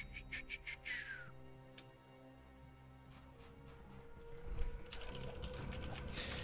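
Rapid computer keyboard typing in bursts of quick clicks, fairly faint, at a StarCraft II LOTV showmatch broadcast with soft background noise between keystroke runs.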